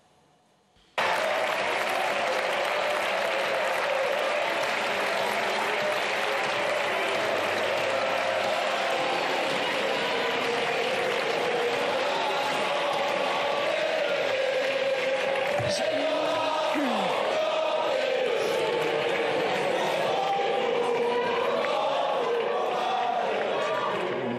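NUPES deputies in the French National Assembly boo Élisabeth Borne as she climbs to the tribune. A dense, loud, unbroken din of jeering voices fills the chamber almost without pause for over twenty seconds.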